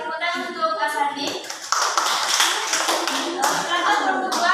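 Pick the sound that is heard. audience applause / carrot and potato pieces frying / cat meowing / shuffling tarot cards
audience applause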